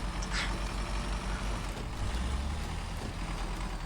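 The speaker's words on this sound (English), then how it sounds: "Although it does hurt to leave my engine running while I check." A vehicle engine idling in the video game Expeditions: a steady low diesel-like drone with an even mechanical hum, continuous and fairly close, with no talk.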